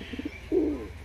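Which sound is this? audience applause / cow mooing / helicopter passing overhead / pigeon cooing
pigeon cooing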